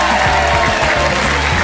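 Studio audience applause on the Australian game show Wheel of Fortune in 2000: a loud, dense burst of clapping from a large crowd, steady and unbroken, with music playing beneath it.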